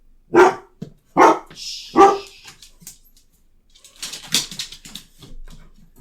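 A dog barks three times in quick succession close by, loud and sharp, followed by quieter scuffling and softer background noise.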